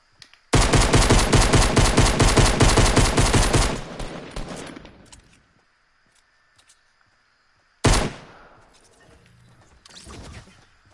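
Video game gunfire: a long rapid burst of automatic fire, then a short second burst and a trailing faint shot, loud and close.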